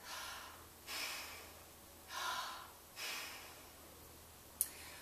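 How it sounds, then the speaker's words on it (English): Exaggerated heavy breathing, drawn in through the mouth and pushed out through the nose, comes as three slow, close breaths with a short sharp snort near the end. "Demonstrate this by exaggerating and breathing heavily so that the child properly understands the inhale-exhale process"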